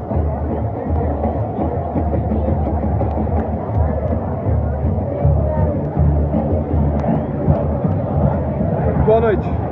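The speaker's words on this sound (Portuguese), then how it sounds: "o Morumbi tá lotado. Olha, dá uma olhada a torcida." Packed crowd of football fans filling Morumbi stadium during a São Paulo match, a dense continuous roar and babble of many voices from all around, steady and loud throughout.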